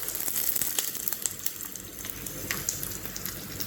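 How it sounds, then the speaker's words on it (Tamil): Mustard seeds, dried red chillies and curry leaves crackle and sizzle in half a teaspoon of hot coconut oil in a small ladle, a steady close spatter with sharp pops scattered throughout and no talk. "கரண்டியில் 1/2 டீஸ்பூன் தேங்காய் எண்ணெய் சூடு பண்ணியிருக்கேன். இதில் கடுகு, மிளகா வத்தல்,"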